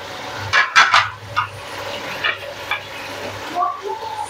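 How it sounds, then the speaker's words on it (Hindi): Onion, tomato and ginger masala sizzles as it is stirred and fried in a pan for aloo masala, with scraping stirs and soft bursts of frying close up. "अब हम इसकी अच्छी तरह से भुनाई करेंगे।"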